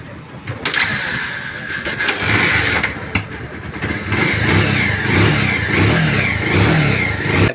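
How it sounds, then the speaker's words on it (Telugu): Motorcycle engine with a BS6 problem, just repaired, cranks and fires up, then revs up and down repeatedly at close range, loud and rough with sharp throttle blips. "ఇప్పుడు మీకు ఒకసారి బండి స్టార్ట్ చేసి చూపిస్తాను చూడండి రిజల్ట్ ఎలా ఉందో."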